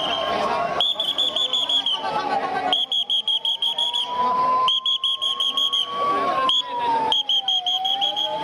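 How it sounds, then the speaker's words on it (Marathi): Repeated shrill whistle blasts, each about a second long, sound in sequence over a wailing siren during an emergency mock drill in Nashik, with faint crowd chatter in the background. "शिट्टी लावा तोंडाला."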